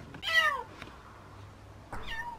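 Two abandoned kittens meow close by: one bright, wavering meow, a pause, then a second shorter meow, with no talking.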